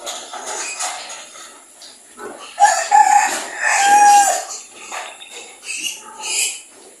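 A mother hen on a Filipino poultry farm, agitated with her grown chicks, clucks and calls in short bursts among other chickens and a crowing rooster, with insects chirring steadily behind.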